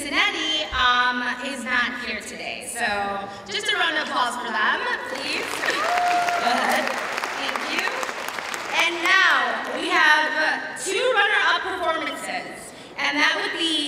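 Audience clapping at a school art and language festival, with a voice talking at the start and again near the end, and a fuller swell of applause and crowd chatter in the middle.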